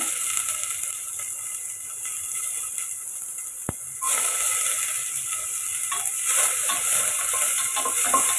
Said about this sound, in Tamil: எண்ணெய் காஞ்சதும் இதில் கட் பண்ண வெங்காயத்தையும் சேர்த்துக்கோங்க